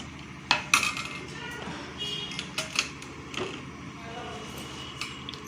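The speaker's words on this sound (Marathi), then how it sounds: "आता हे आपण परातीत काढून घेऊया" A cooked sugar mixture is scraped from a pan into a wide metal parat dish, giving several sharp metallic clinks and scrapes with quieter clatter between, close and moderately loud.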